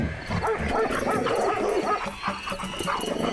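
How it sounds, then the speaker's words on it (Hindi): A cartoon dog barks and yips rapidly and aggressively while attacking, mixed with whimpers and growly scuffling, close and continuous throughout. "तब तक सेठ का कुत्ता बिरजू का पिछवाड़ा नोच लेता है"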